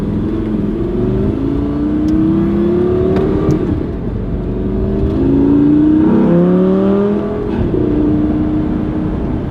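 A manual-transmission car revs up through its gears, the engine tone climbing, dropping at each upshift and climbing again, loud and close with steady engine whir and no talking.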